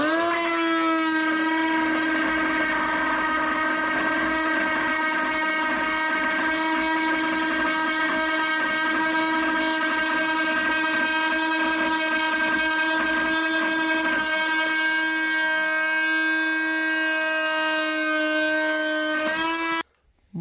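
A Hyper Tough bi-metal oscillating multitool blade cuts into oak hardwood with a loud, sustained buzzing whine that holds a steady pitch for about twenty seconds before cutting off abruptly.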